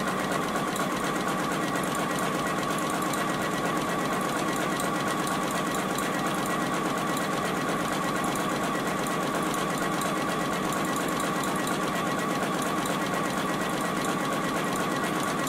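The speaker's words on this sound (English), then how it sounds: "we're going to sew all the way down that line" JUKI sewing machine stitching a fabric beverage coaster runs continuously, a steady fast rattling hum of the needle mechanism at close range with an even loudness throughout and no talk.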